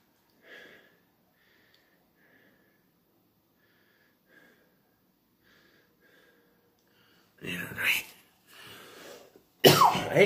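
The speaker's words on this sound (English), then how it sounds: "I hate coughing on camera, but this cold won't freaking go away." A person with a cold coughs in a few loud, harsh bursts near the end, after a stretch of quiet speech-like murmuring and faint sniffs.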